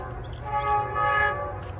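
A train horn sounds in a sustained, swelling blast over the low rumble of an approaching train.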